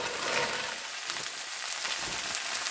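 Okra tipped from a bag into onions already frying in a pan gives a steady, close sizzle with crackling bursts throughout, no voices.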